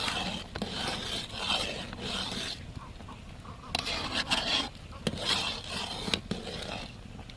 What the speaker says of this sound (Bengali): এইভাবে নাড়াচাড়া করতে করতে পুরো ঘন হয়ে আসবে